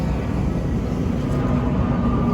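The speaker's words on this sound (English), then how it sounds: "that's a plane that you hear right there" An airplane passes overhead above a garden in the Philippines, a steady broad roar that fills the whole clip with no break or talk.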